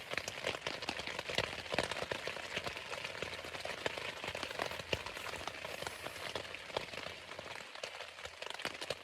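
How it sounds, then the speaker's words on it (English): Heavy rain drums steadily on a tent at a coastal campsite, a dense, continuous patter of drops with no voices, close and enveloping throughout. "I don't know if you can hear me over the rain, but it's really coming down now"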